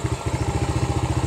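A Yamaha Aerox 155 scooter engine idles steadily after calibration, a close, even low putter of rapid regular pulses with no talk over it.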